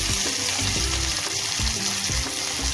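Curry leaves and onion fry in hot oil with a loud, dense, close sizzle, punctuated by rhythmic stirring knocks against the pan.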